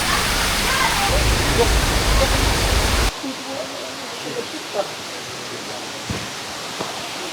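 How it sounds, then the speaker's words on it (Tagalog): A roaring waterfall fills the first three seconds with loud, steady broadband rush, then drops to a softer distant flow with scattered footsteps and small knocks, suggesting a calmer falls in Aurora heard from nearby. "Ayun nakagad pala yung falls eh."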